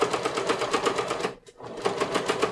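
A sewing machine running steadily while top stitching a wool pea coat collar with heavy topstitching thread, a fast close rhythmic needle chatter that pauses briefly mid-run and then resumes.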